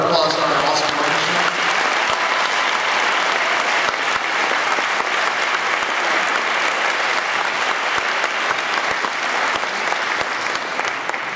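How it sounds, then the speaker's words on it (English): Big round of applause from a high school concert audience for the orchestra, dense continuous clapping with some voices and a brief tonal bit at the start. "So let's give him another round of applause for our awesome orchestra."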